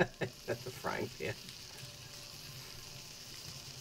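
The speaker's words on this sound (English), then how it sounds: "That's a frying pan." Food sizzles and fries in a pan in the video game Palworld, a soft continuous crackle beneath a few brief bursts of speech at the start.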